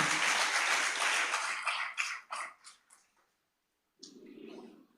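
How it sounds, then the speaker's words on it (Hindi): Audience applause after a call to welcome fearless people at a spiritual talk, a loud dense burst of clapping that thins into scattered claps and stops, followed by a brief murmur of voices. "सारे निर्भय लोग के लिए एक बार जोरदार ताली बजा करके स्वागत, अभिनंदन"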